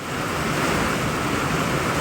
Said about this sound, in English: But we start the week with rain